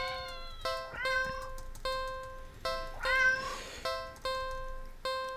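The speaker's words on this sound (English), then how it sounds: "We hear the cat." A cat in a video game meows repeatedly, clear mid-pitched mews spaced about a second apart, with a couple of longer, more drawn-out cries, heard alone against a quiet background.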